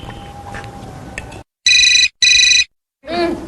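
An electronic phone ringtone sounds in two short bursts after a moment of quiet background noise, followed by a voice speaking.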